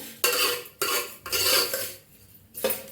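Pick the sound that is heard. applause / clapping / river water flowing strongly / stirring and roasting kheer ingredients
stirring and roasting kheer ingredients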